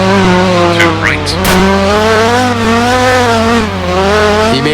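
A Group B rally car in the Roblox rally video game, a loud constant engine roar with rising and falling revs and a brief screech of tires mid-way, close and alone.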